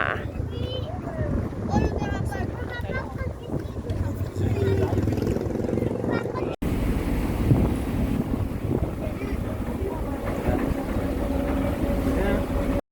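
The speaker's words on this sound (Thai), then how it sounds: "เรือกำลังเทียบท่า" A ferry boat pulls in to dock at a pier on a river crossing in Thailand, its engine rumbling steadily and close, with wind buffeting the microphone and people talking nearby throughout.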